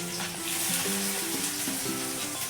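Onions sizzling and frying steadily in a hot pan of oil with cumin seeds for a chilli garlic mango rice, a loud continuous crackle close up with no talking.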